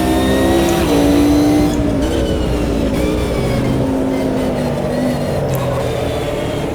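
Race engine of a McLaren GT1 car at Spa in the Automobilista 2 racing game, a loud steady drone whose pitch shifts slightly through gear and throttle changes, heard alone.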